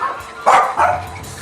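A dog gives two short barks close by, one straight after the other, over a quiet background.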